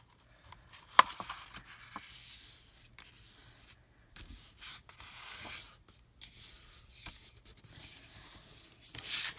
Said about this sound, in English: Okay, now we're going to turn it over. And we're going to fold it